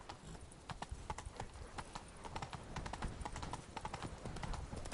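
Horse hooves clip-clop at a steady trot through The Witcher III game world, a continuous rhythmic beat of sharp hoof strikes heard moderately close against a quiet background.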